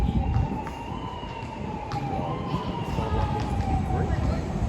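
A wailing siren rises and falls steadily in the distance, mixed with a busy rumble of background noise.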